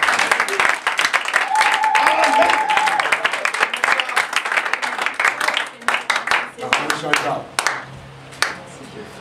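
A church congregation at a French-language service claps and cheers in a dense, lively burst of applause that slowly thins out, with voices calling out over it.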